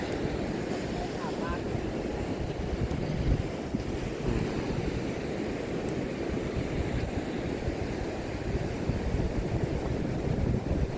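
Sea waves wash onto the sand at Chao Lao beach in Chanthaburi, a steady broadband surf roar with gusty wind buffeting the microphone across the whole stretch.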